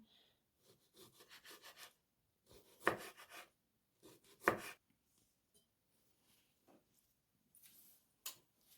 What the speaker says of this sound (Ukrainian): Шматочком нарізуємо відварену айву.